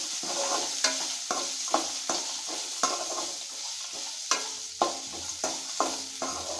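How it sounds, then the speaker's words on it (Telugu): Seasoning fries in a pan for chithrannam with curd chillies, a bright continuous sizzle punctuated by regular, rhythmic spoon scrapes and taps against the metal, close up and without speech. "పచ్చివాసన పోయే వరకు వేయించుకోవాలండి."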